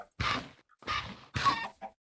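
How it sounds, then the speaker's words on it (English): Minecraft chickens in a bare, grassless pen cluck in three short bursts with a fainter fourth call at the end, close and clear with no talk over them. "So over here are the chickens, and let's see how they're doing."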